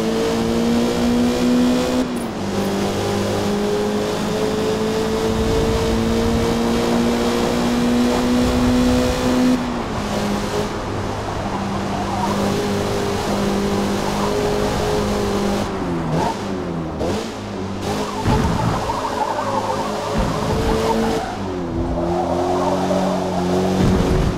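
A Mazda MX-5 race car in Forza Motorsport holds a steady engine tone through a corner, then shifts and revs again with tyre scrub and sliding noise, loud and continuous with no voices.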